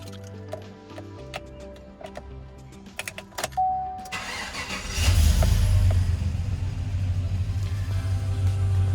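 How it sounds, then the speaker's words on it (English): A car with a 6L80 transmission, after a transmission thermostat delete, is started: light clicks and workshop ticks come first, then the engine cranks and catches, settling into a loud, steady idle close by. "After we put it all back together, we'll start it up."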